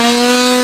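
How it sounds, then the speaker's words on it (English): A chainsaw runs with a loud, steady droning buzz at a haunted Christmas event, close by and unbroken for a brief moment with no talk over it. "You got a chainsaw, I see."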